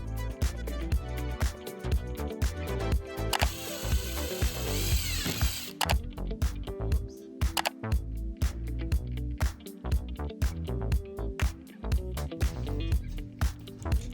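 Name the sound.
carving out wooden fireplace mantel edge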